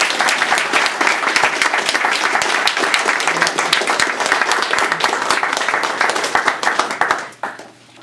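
Full round of applause from the audience at a Toastmasters division speech contest, honoring the presenters; dense, sustained clapping throughout that thins out and fades near the end.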